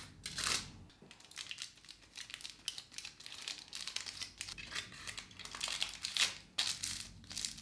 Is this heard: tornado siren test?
no